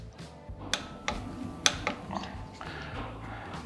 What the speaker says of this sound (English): For the first torque, we're going to go ahead and torque both bolts to 15 foot-pounds of torque.